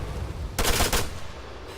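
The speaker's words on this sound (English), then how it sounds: "you'll probably hear I'm going through ammo quite a lot here" Automatic rifle fire in Arma 3 from an auto rifleman, heard as one short, loud burst of rapid shots in the middle of the moment, with steady background noise before and after.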